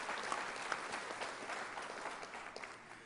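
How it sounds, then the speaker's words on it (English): A school hall of fame induction audience applauds its staff in a faint, steady wash of many hands clapping, distant and even throughout with no voices over it. "So round of applause for my staff for making that possible."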